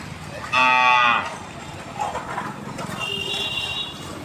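A mother cow with her newborn calf lows once loudly and close, followed by softer rustling movement and a thinner, higher call near the end.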